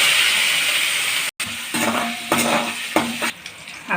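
Onion, curry leaves and green chillies frying in hot oil for a tomato kurma, a steady close sizzle broken by a brief gap, then stirring and scraping bursts with spatula clinks against the pan.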